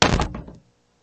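Fists bang down hard on a wooden desk in a dull, heavy thump with a few quick rattling follow-up knocks, close and loud, then silence.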